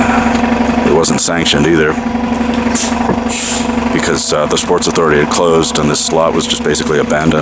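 Heavy street traffic at a busy intersection rumbles steadily, with truck and car engines idling and revving and a brief air-brake hiss, as someone talks continuously over the noise.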